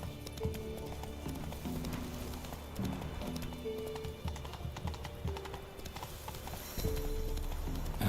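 Roach the horse gallops in The Witcher 3: Wild Hunt, rhythmic hoofbeats clopping steadily under game music, close and continuous across the clip.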